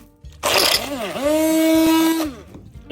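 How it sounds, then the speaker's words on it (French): An immersion blender purees red pesto with fresh basil in a large bowl; its motor whirs up sharply, holds a steady high whine for about two seconds, then cuts off. "Et à l'aide d'un mixeur plongeant, on va mixer le tout."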